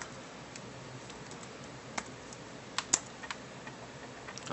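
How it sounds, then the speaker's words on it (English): Typing on a computer keyboard while setting up a Linux live CD boot: sparse, faint keystroke clicks, a handful of sharper taps near the middle, over a steady background hiss. "we have to type start X"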